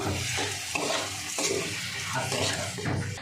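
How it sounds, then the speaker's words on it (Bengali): Rice sizzling in a pan as it is stir-fried with spices for egg pulao, a close, continuous hiss broken by repeated scraping stirs. "একটু মশলার সঙ্গে কষাবো।"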